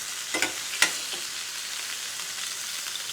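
Tomato pieces frying in a couple of spoonfuls of oil: a steady, close hiss of sizzling with a few sharp clinks of a utensil against the pan near the start.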